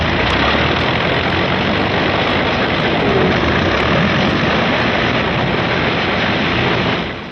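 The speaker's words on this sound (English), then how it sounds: "P-51s are warming up for the longest fighter flight on record" World War II P-51 fighter planes warm up their piston engines on an airfield, a loud, unbroken droning roar that holds steady before easing off at the end.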